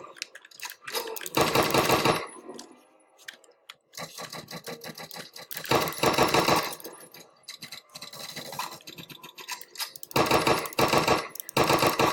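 Bursts of rapid automatic gunfire from a gun in a round-based video game, several long rattling volleys broken by short pauses, loud and close, with no voices over the shooting.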